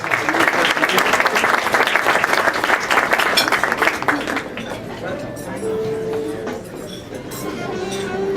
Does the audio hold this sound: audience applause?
yes